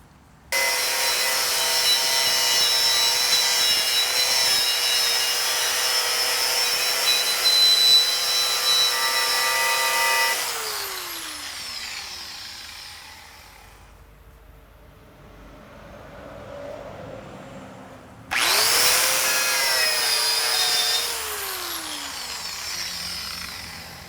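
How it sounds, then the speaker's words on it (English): Wire wheel scrubbing metal down to bright bare surface around wheel studs, a loud, harsh, even grinding whir that runs for about ten seconds, spins down, falls quiet, then starts again near the end. "I may just keep the studs clear from the wire wheel"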